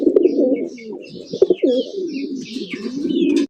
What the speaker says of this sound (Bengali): একদম বিগ সাইজে একজোড়া আপনার কালারিং রাসগোল্লা কবুতর মিলিবার কালারের মধ্যে